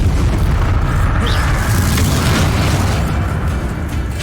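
A Confringo spell blasting in Hogwarts Legacy, a loud booming explosive rumble that sustains for several seconds and slowly fades, with no talking.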